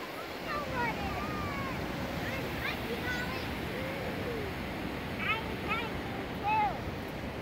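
Rushing river water at Idaho Falls, a steady broadband roar with wind buffeting the microphone, bird chirps and distant voices on top.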